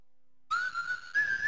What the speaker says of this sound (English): walking a couple blocks and whistling a particularly annoying tune I had composed